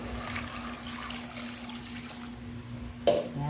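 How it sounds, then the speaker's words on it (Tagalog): Water poured into a cooking pot holding pork ribs and taro for sinigang, a steady trickling stream with a faint hum underneath and a brief clatter near the end. "lalagay tayo ng tubig."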